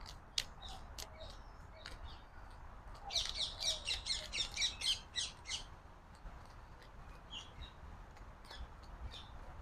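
Birds chirping outdoors in warm trade-wind weather, a dense burst of rapid high squawks and tweets in the middle over a steady breezy hiss, with scattered calls before and after, moderately near.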